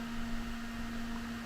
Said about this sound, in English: This is the sound of the Intel stock cooler on the Intel i5 12400